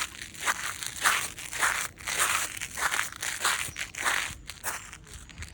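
Repeated crunching footsteps across brittle ice and icy snow, close and fairly loud, an uneven walking rhythm of crackling crushes with brief pauses and no talking.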